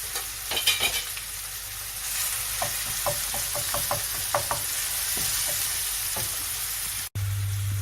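Cockles fry in a pan with ginger garlic paste, giving a steady loud sizzle broken by a run of sharp spoon knocks and stirring scrapes, with a brief cut near the end.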